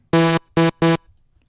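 Three loud, buzzy distorted synth blasts with a harsh edge, the first longest, then two shorter bursts in quick succession, followed by quiet.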